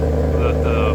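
Exhaust of a Maserati Quattroporte Sport GTS with the valves closed, a steady low burble heard close at the tailpipe, with faint higher whines rising briefly over the drone.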